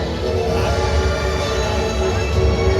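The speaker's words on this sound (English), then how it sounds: "Sounds like there's a train coming." A train approaches at Phantasialand theme park, rumbling steadily nearby, a low, continuous roar with a faint metallic hum layered over it.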